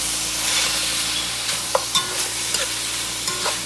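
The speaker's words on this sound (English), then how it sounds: "Saute this up a second." Vegetables sautéing in a pot for brown stew goat, a steady soft frying sizzle with a few light clinks and scrapes of stirring, close and alone without talk.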